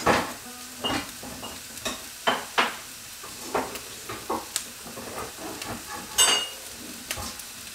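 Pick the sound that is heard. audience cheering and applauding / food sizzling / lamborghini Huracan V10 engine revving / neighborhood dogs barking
food sizzling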